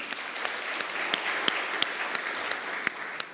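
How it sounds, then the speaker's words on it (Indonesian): A church congregation claps together in a steady, fairly even rhythm of sharp hand claps over a continuous wash of applause, moderately loud with no speech. "Saudara kita tepuk tangan buat Tuhan Yesus."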